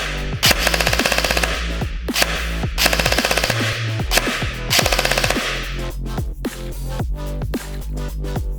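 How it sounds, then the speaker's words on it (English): A Kestrel V2 toy blaster in continuous-fire mode lets off rapid bursts of snappy, evenly spaced shots, several volleys in a row with brief pauses between, loud and close with no talking. "press the trigger lightly for single shot. Pull the trigger to the end for continuous shot."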